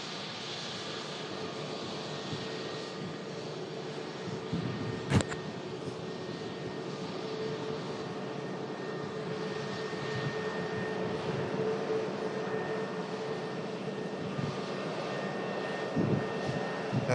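A passenger airliner arriving after a flight up from Spain, its engines a steady distant roar that swells slightly toward the end, with a sharp click near the start and no voices.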